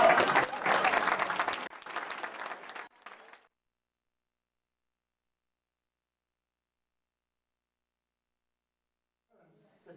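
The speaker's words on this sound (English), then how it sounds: "Big round of applause for all of us." An audience at a parish magic show bursts into loud applause that fades out after about three seconds, followed by near silence.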